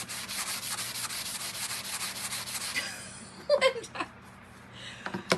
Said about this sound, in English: so I just sanded it just a little bit